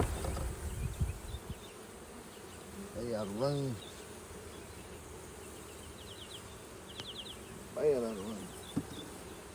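Honeybees packed into a crowded queen-rearing cell builder hive give a steady buzzing drone, with someone talking over it at moments.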